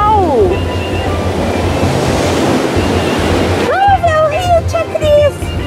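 Steady roar of sea waves washing onto a beach fills the scene, with high animated voices talking over the surf partway through.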